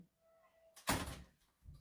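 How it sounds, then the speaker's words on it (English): A household door opened indoors: a soft faint rustle, then a sudden loud thunk as the door swings, followed by a fading rumble and a smaller knock near the end, with no talking. "Yep, I have to open the door."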